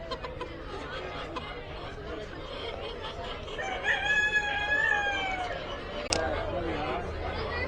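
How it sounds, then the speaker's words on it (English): A Splash variety rooster crows in a fair's poultry exhibit, one drawn-out, wavering cock-a-doodle-doo rising over a steady murmur of nearby crowd chatter and other birds clucking. "this variety of rooster is the Splash"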